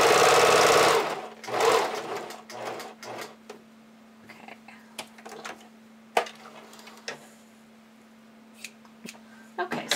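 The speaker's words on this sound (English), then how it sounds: "I've really quickly applied my elastic using a zigzag stitch to the inside of my garment." A sewing machine zigzag-stitches elastic onto the inside of a fabric garment, whirring loudly at first, then falling to a steady low hum broken by scattered clicks and taps, with some talking.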